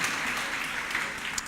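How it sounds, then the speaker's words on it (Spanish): An audience at a Spanish-language sermon gives a steady wash of clapping, moderately loud and continuous across a short span, with no voices over it. "Un aplauso para ellos"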